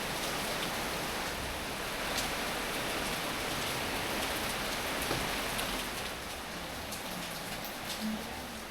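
Monsoon rain pours steadily in Palakkad, Kerala, a dense, even hiss of drops hitting surfaces that stays constant throughout with no voices.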